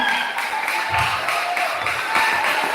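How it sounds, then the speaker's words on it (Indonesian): A hall audience at a school principal handover ceremony claps steadily and evenly, a broad wash of applause from many hands sustained throughout. "Kita beri tepuk tangan yang meriah kepada beliau"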